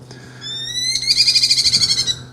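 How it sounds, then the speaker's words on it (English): A Merlin falcon gives a loud, close, rapid series of shrill repeated call notes that rise in intensity and quicken into a chattering trill, heard alone without talking. "that is the call of a Merlin"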